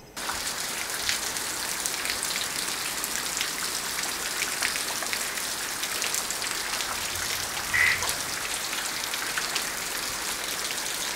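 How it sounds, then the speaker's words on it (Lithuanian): Rain drips and patters steadily on surfaces in a Balinese village, running into a drain. The close, dense patter stays even and continuous with no talk. "kapt, kapt lietus"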